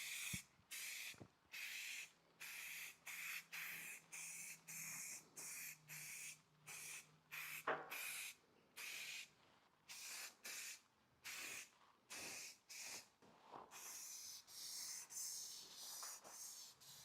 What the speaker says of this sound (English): we're now going to apply our filler primer.